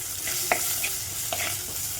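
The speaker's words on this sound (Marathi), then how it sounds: "खमंग छान परतायचे." Green beans with spices sizzle steadily in a hot pan as a spoon stirs them, the frying hiss constant and close, with a few soft scrapes and knocks of stirring and no talking.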